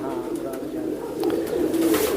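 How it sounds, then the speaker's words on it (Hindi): Ferozpuri and Sialkoti pigeons cooing close by, a soft repeated throaty coo that swells louder toward the end, with no talk over it. "इमरान भाई ने जैसे बताया इनको सियालकोटी और फिरोज़पुरी कबूतर अच्छे लगते हैं।"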